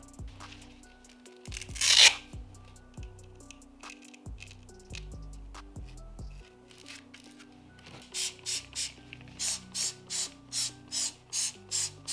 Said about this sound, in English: I'm going to start doing the 1200 grit, do another pass on that